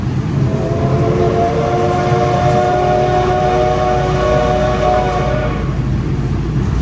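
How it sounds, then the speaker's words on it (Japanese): The SL Paleo Express steam locomotive sounds a long sustained whistle as it departs Chichibu station, loud over a constant rolling rumble of the train that continues after the whistle fades. "駅を出発するときは汽笛の音を楽しめます。"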